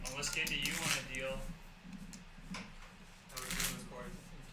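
Playing cards are shuffled in two quick riffle bursts, each a crisp, rapid flutter of snapping cards, close to the microphone with a pause between them and faint low voices underneath.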